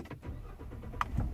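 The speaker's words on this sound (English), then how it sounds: "And actually, I'm going to turn the truck on." A truck's engine cranks and catches near the end, a short low rumble building after a quiet stretch of background noise.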